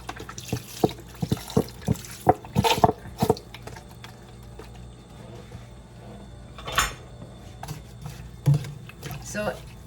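Water being added to a pot of homemade broccoli soup: splashing and trickling mixed with frequent clinks and knocks of kitchenware, with a voice speaking over it.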